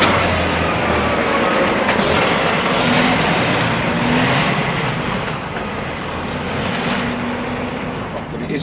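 A DAF XG heavy truck pulls away and drives around the block, giving a steady, broadband road and engine rumble with continuous cab and tyre noise that holds at an even level throughout.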